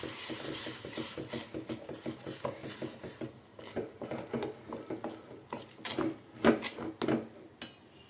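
A spoon scrapes and knocks steadily inside a pot as rice flour is stirred into boiling water, with close, irregular clinks and rubbing sounds and no talk.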